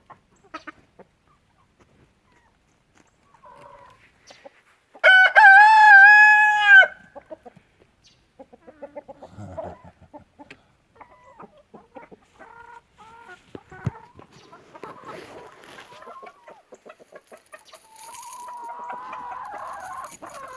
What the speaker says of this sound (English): I can hear more birds in there.